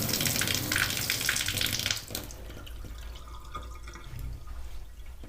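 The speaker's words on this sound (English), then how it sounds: "Run a little water down there." Water runs down a bathtub drain in a steady close splashing rush, louder at first and then settling into a softer continuous gurgling flow.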